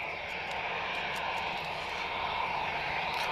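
Steady, loud drone of an aircraft landing at Lisbon Airport, a continuous engine roar held throughout at a constant level from a nearby vantage point.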